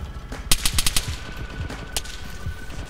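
A .50 cal machine gun fires in the Arma 3 video game, a quick burst of about five heavy, evenly spaced shots at mid-distance, followed by scattered single cracks and low rumbling.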